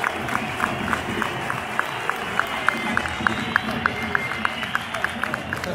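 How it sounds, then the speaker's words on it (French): Steady applause from a large football stadium crowd at Standard de Liège versus Anderlecht as an injured player leaves on a stretcher, a continuous wash of clapping with scattered louder claps, heard from a distance with the crowd's roar underneath. "Sa sortie qui est applaudie de façon très fair play par le stade Sclessin."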